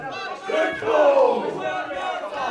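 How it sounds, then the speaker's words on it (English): A wrestling crowd roars and chants for one more chop during the Josh Holly vs Mulligan match at an Overdrive Jump Start show, a loud rising swell of many voices in a hall. "And the crowd asking for one more"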